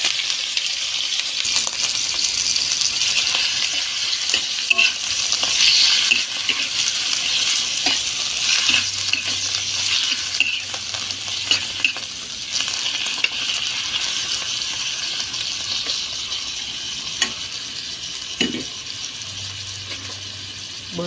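Meat sizzles and fries steadily in a hot pan while being stirred, with continuous loud crackling and occasional scraping of the utensil, no talk.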